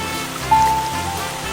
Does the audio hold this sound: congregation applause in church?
no